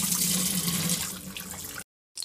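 Tap water runs steadily into a sink while potatoes are washed by hand in a kitchen, a close splashing flow that fades and cuts off near the end.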